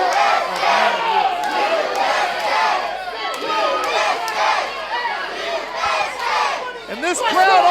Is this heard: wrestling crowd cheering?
yes